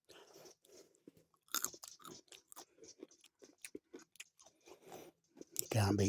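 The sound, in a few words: crunching hazelnut shell while chewing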